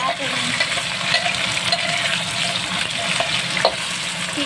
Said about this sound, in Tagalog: Ayan, sunod natin ang pritong potato